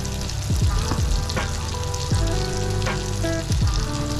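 Butter sizzles in a hot pan while sisig is cooked, a steady close frying hiss with a few scraping and knocking sounds from a utensil against the pan; no talk.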